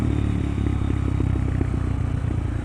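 Motorcycle engine running close by during a clutchless downshift, a steady rough throb with quick throttle blips pulsing through the low rumble over the short stretch.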